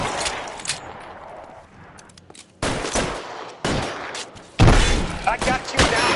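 Rapid bursts of gunfire crack out in a tense shootout, the broadband blasts loud and close, arriving in irregular clusters with the heaviest volley near the end.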